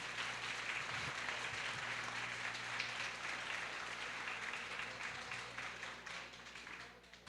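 Congregation applauding Father Antônio during a festive Mass for Saint Roch, a steady wash of clapping filling the church for several seconds before easing slightly toward the end, with low organ or hum beneath.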